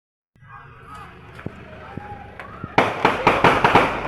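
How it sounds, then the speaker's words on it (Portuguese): Several sharp gunshots fired inside a cemetery during a funeral burst out in a quick irregular volley of about five loud cracks near the end, following murmuring voices and earlier scattered distant pops. "corre de tiro, mulher. É tiro, Elza"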